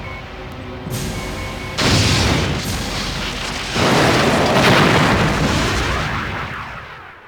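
A ship comes under fire in a Star Trek Borg video game, with loud booming explosions and heavy rumbling blasts that swell in two waves before fading out.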